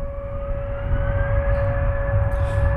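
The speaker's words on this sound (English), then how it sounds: "Tornado sirens are going off in the background because it is noon on Saturday." Outdoor tornado warning sirens sounding their weekly noon test near Cleveland Hopkins airport, a steady sustained tone carrying from a distance over a low rumbling background.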